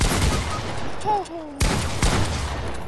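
Pump shotguns fire in a Fortnite match: several close, booming blasts with a sharp burst near the middle and another soon after, over busy game noise.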